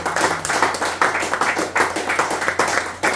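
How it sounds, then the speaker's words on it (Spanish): A church congregation claps in rhythmic, pulsing waves of applause, loud and full, with no voices. "Denle un aplauso al Señor Jesucristo en esta hora"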